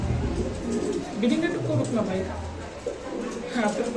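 Mundiyan pigeons coo softly, half buried under close chatter and general background noise.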